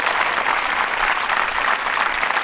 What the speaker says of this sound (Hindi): अगर आप चाहें तो तालियां बजा सकते